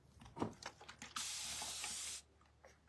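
A spray bottle gives one sustained hissing burst of about a second, close and clear, after a few soft handling knocks and rustles in a quiet room.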